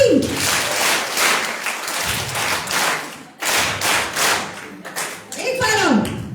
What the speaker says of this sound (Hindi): एक बार सब तालियां बजा देंगे जैसे हमने पहले बजाई थी।